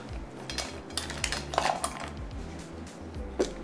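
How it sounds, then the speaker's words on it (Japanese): A Trangia mini cook set is handled up close: the metal lid-frying pan, pot and gripper clink and scrape lightly in irregular taps and small rattles, with a couple of brighter metallic pings. "トランギアのミニセットの中身ですけれども、この蓋兼フライパン、あとそれらを持つための道具と本体"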